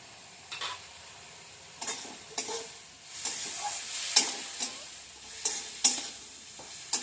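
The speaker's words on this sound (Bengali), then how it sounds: "মশলাটা এবার একটু ভাজা ভাজা হবে" Ground spices fry in a pan with a little water and sugar for a rohu fish head and cabbage dish, under a soft sizzle punctuated by a dozen sharp spatula scrapes and clinks spaced unevenly throughout.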